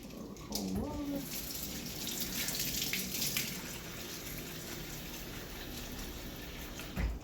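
Cold water runs steadily from a kitchen tap to chill freshly cooked eggs for pickling, a continuous close hiss and splash with a brief voice near the start.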